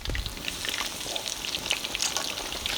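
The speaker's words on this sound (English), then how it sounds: "So I want to fry these until they are just golden." Chicken pieces frying in hot oil over an outdoor fire, a continuous bubbling crackle with scattered pops, moderately loud and close, with no talking.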